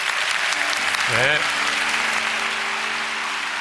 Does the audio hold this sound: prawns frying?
no